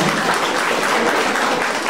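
Loud, dense applause from an audience at an inter-school debate competition final in Sirajganj, a continuous wash of clapping close by throughout.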